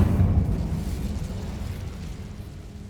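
Incendio fire spell cast in the Hogwarts Legacy video game, a brief whooshing burst of flame that fades over a few seconds, close and alone.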